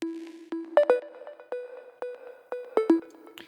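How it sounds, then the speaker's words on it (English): A soft sine wave synth lead with its pitch lowered, stereo widening and reverb, playing a short melodic phrase of clean tones that land on a steady beat, with no talk over it. "So the main synth in this song is just a little sine wave."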